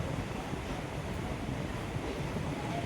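A passenger express train runs from Madurai toward Rameswaram, its interior rumble and rushing air forming a faint, steady low drone without talk.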